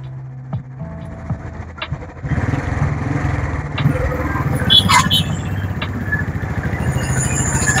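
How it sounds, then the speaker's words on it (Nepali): A Royal Enfield Classic 350 engine thrums steadily while riding on the Kathmandu Ring Road, a low continuous rumble that grows louder after a couple of seconds, with wind and passing traffic noise mixed in. "मोटरसाइकल निकालेको अलिकति आवाज पनि त्यस्तै आइरहेको छ।"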